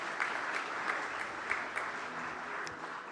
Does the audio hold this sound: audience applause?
yes